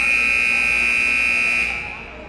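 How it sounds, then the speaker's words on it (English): A basketball timeout horn at a game blares in one loud, steady, sustained buzzing electronic tone, then cuts off and leaves a faint hum of arena noise. "15 seconds left in the timeout as the horn sounds."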